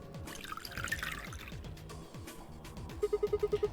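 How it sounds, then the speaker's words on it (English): Ethanol poured into a drain in Zero Escape: Virtue's Last Reward, a short trickling, gurgling run of liquid followed by a quick rhythmic series of bright drips, close and fairly quiet, with no voices. "Pour the froggy ethanol into the drain."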